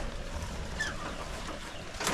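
Hens cluck softly and intermittently over a steady low background rumble, with a brief brighter call near the end.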